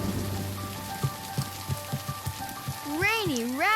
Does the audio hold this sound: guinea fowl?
no